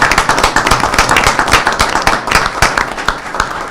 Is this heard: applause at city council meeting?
yes